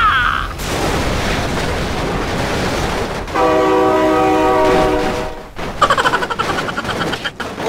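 Loud train horn blasting in sustained bursts in BeamNG Drive, the racket of a train rushing past underneath, followed by a burst of clattering, rattling wheel noise as it goes by; a voice shouts briefly near the start.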